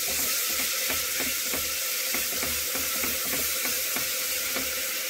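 Ginger garlic paste and ground green chilli fry in a pressure cooker, giving a loud, steady hiss with a regular rhythmic scraping of a spoon against the metal, close and continuous.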